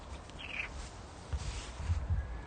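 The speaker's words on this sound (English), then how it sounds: "Oh, bird." A bird calls once outdoors, a short faint chirp over quiet background rumble and soft handling noise.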